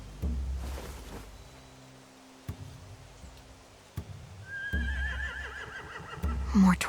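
Video game horses whinny and neigh, with hooves clopping and shuffling in between, fairly close with light background noise.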